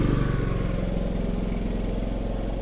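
A Harbor Freight Predator 5000 inverter generator, converted to run on natural gas, settles into a steady low idle, a close, even engine drone with a fast regular pulse and no talking.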